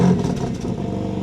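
The engine of a 2025 BMW M2 fires up by remote start with a loud initial burst, then settles into a steady, rumbling idle close by.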